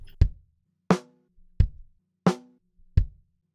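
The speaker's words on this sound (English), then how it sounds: "Don't be afraid to alternate your sticks with your snare drum too." Snare drum struck with alternating sticks, close and dry, five sharp hits in a steady rhythm with no other sound between them.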